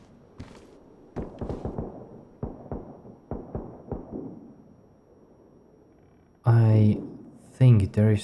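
Gunshots from a Saiga and an AK in the survival game DayZ, played on an Xbox console server: a scattered series of sharp cracks in short bursts, some close together, followed by someone speaking.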